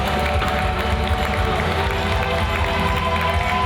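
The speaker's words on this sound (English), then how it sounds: "Listen to that crowd reaction" A wrestling crowd roars for an entrance at True Grit Games, a dense, continuous wash of cheering and clapping that stays loud and unbroken from start to finish.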